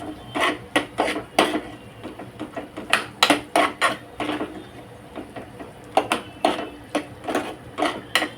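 Wheat flour is mixed into softened onion and tomato vegetables in a pan, a spoon knocking and scraping the pan in quick repeated strokes, close and fairly loud, with brief pauses between groups.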